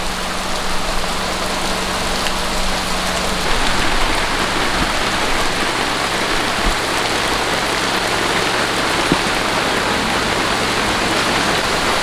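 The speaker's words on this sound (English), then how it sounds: "It's raining on the homestead." Heavy rain pours down steadily on a rural homestead, a dense, loud and unbroken hiss of falling water that runs for twelve seconds with no voices.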